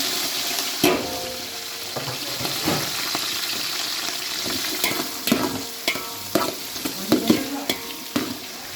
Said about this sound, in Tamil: வெங்காயம் நல்லா வதங்கும்